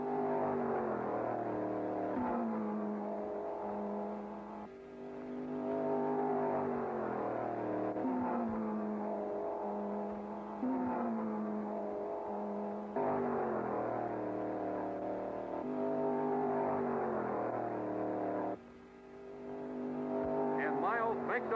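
Race cars at the 1963 Road America 500 SCCA/USRRC event drone steadily with sustained engine notes, rising and falling through gear changes over the whole stretch, moderately near with faint voices underneath.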